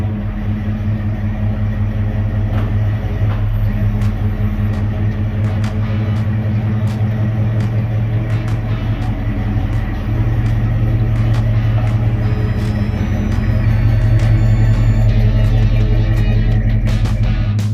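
Old Chevrolet C-20 truck engine settling back to a steady idle, a loud, close, continuous low rumble that holds even throughout with a slight swell near the end and no voices.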